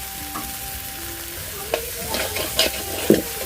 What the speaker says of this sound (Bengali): এখন আমি এই যে কাঁকড়াটাকে দিয়ে আরও একটু ভালো করে কষিয়ে নিব।